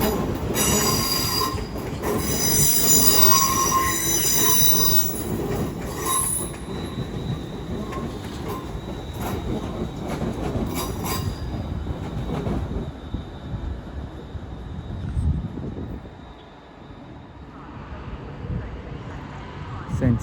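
A London Northwestern Railway Class 350 electric passenger train from Crewe rolls into London Euston with loud, continuous wheel squeal and rumbling, gradually easing as it slows, with faint voices in the background.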